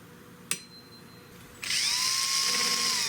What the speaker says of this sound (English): I'm going to drill my first hole right there